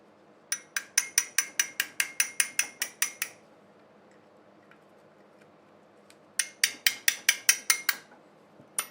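A ratchet clicks rapidly in two bursts of about a dozen sharp ticks each, with a quiet gap between them, while unbolting parts from a seized antique Briggs engine; close and crisp, with no voices.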